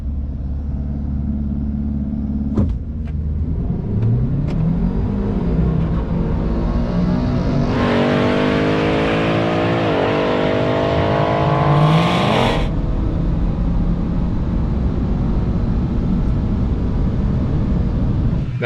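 A 2026 Ford Maverick launches on a test track in sport mode: a loud engine roar climbs through rising revs and gear changes, holds a strained high-pitched pull, then settles back to a steady rumble, all close to the microphone.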